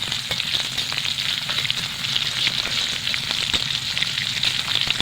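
Kanthari chillies and ginger frying in sesame oil make a steady, close sizzle with crackling pops throughout, and no voice is heard.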